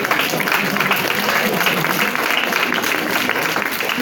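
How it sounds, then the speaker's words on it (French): Audience applause at a high school graduation ceremony, a broad, even wash of clapping from a crowd that continues evenly throughout. "merci de les applaudir"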